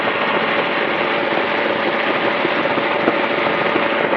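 Magni M16 tandem gyroplane engine during a high-speed pass at 100 mph and about 5490 rpm, a loud, constant droning roar that holds steady throughout with no talking.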